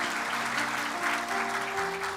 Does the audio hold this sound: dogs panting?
no